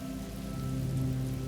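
Steady rain pours down as part of a thunderstorm ambience, a dense and continuous wash with no distinct thunder claps and no voices.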